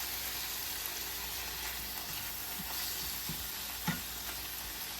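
Steaks warming in a hot pan alongside onions and mushrooms for homemade steak and gravy give off a steady, close sizzle that runs the whole time, with a few soft clinks and scrapes but no talking.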